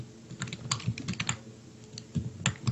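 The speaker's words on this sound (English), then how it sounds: "Am sorry about the constant clicking, because my camera is directly next to my keyboard." Close, constant clicking of a computer keyboard right beside the microphone, with bursts of keystrokes separated by short pauses and no talking.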